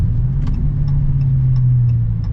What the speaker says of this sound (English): And just listen to that V8.